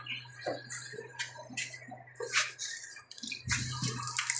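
Water splashes and patters in irregular bursts against a Nissan C22 Vanette pickup body during a leak test, fairly close, with a steady low hum running underneath.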